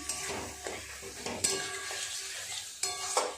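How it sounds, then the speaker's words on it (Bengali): Mutton mince with cumin, coriander powder and salt sizzles in a pan while a spatula scrapes and clatters through it at irregular intervals, close and without talk. "খুব ভালো করে এবার সমস্ত কিছু কষাতে হবে কিছুটা সময় নিয়ে"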